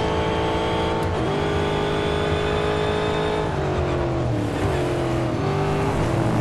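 A race car in Real Racing 3 accelerates hard, its engine climbing steadily in pitch through several gear shifts, loud and close with a constant roar and no talk.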